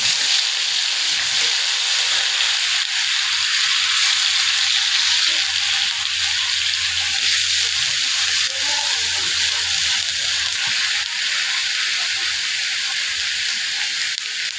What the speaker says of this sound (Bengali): তেলের ভিতর দিব পেঁয়াজ বাটা